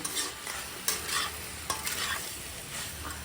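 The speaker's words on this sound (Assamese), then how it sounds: "এতিয়া ভালদৰে মিক্স কৰি লৈছোঁ আৰু অলপ দেৰি ভাজি পেলাই মই পাস্তাখিনি নমাই দিম" Boiled pasta being stir-fried with salt in a pan, with a soft oil sizzle under repeated scraping strokes of a spatula in an uneven stirring rhythm, close and alone.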